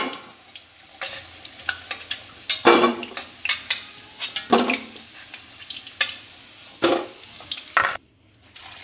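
Sesbania flower pakoras deep-fry in hot oil, giving a steady sizzle broken by sharp scraping and clinking as a utensil stirs and lifts them in the pan. The sound is close and fairly loud, with a brief silence near the end.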